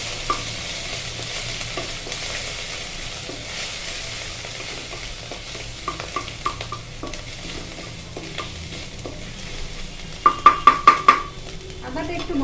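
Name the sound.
grated ginger frying in oil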